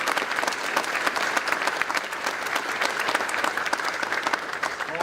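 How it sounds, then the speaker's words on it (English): Applause breaks out at a governor's bill-signing event, a crowd clapping hard in a thick, constant patter that holds strong from start to finish, with no voices over it. "Let's give them a round of applause"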